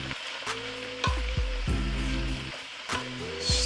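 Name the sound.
collard greens sizzling as they are stirred in a pan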